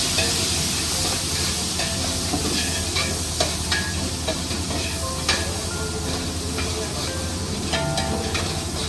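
Onions and tomatoes fry in a pan with a steady sizzle and hiss while being stirred, with scattered scraping clicks through the whole stretch.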